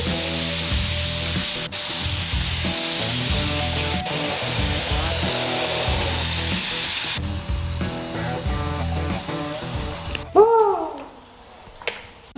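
A spray gun lays a final coat of budget Amazon paint on a car, a loud continuous hissing blast, close by, that stops near the end, followed by faint rustling.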